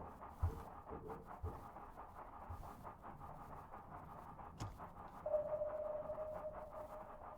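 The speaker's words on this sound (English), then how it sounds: "Okay, that's the sound of a ping in slow-mo." Sonar ping in the submarine game UBOAT, slowed down: a faint, drawn-out tone that rises out of a low hum and rumble and rings on near the end.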